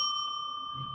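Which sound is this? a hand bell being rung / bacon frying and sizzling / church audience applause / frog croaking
a hand bell being rung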